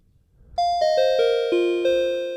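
Cold, spacey bell synth patch on a Novation Summit with pre-filter overdrive, five or six bright, ringing notes struck in a descending run, each sustaining and overlapping into a shimmering wash, fairly loud and alone.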